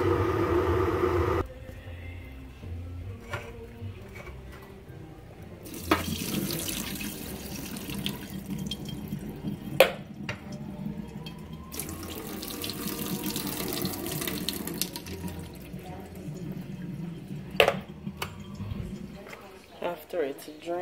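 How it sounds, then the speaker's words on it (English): Water runs and splashes from a kitchen tap into a sink while canned ackee is drained, a steady close pour with pauses, shifting flow and a few sharp knocks and clatters. "first thing I usually do is drain the water off."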